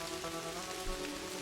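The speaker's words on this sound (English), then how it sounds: "It's raining. Raining cats and dogs." Steady rain pours down in the mystery adventure game Kathy Rain, a dense, even patter holding constant throughout with a faint musical hum beneath and no voices.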